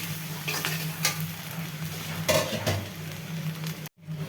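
Dried fish (shutki) frying with onion in hot oil, a close crackling sizzle punctuated by scrapes and clinks of a utensil against the pan, briefly cutting out near the end.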